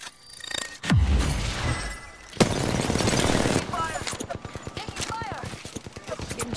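Gunfire from a shooter video game, with sharp shots and bursts of rapid fire scattered across the clip, mixed with busy game sounds and talk from players.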